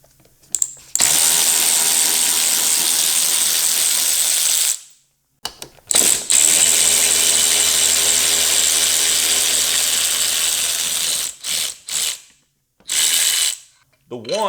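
Power tool ratcheting loose 6mm bolt heads on a 2016 Honda F6B motorcycle during disassembly, a loud sustained whirring buzz in two long bursts followed by several short trigger pulls, with no talking.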